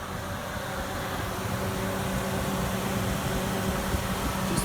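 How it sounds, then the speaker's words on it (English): Radiator cooling fan on a Porsche 924S running with the air conditioning switched on, a steady broadband whir with a low mechanical hum, constant and fairly close throughout with no talking. "Just one of the fans is running."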